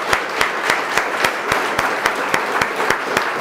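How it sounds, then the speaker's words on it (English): Crisp, evenly spaced hand claps stand out over a softer bed of audience applause for a Constitution Day speaker at an indoor talk, continuing at a steady rhythm throughout with no voices. "one more round of applause for our speaker"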